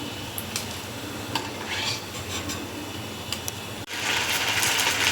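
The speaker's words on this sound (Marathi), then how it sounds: "असे मी दुसरे पण तळून घेते" Semolina medu vada deep-frying in hot oil, a steady close sizzle with occasional utensil clinks and stirring scrapes, swelling to a louder burst of bubbling near the end, no voices.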